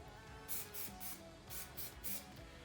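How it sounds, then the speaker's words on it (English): Several short bursts of hair texture spray hiss onto wavy hair in an uneven rhythm, close and fairly soft, with quiet pauses between puffs. "I'm gonna spray a little bit of that in there before I bring my hands through my waves"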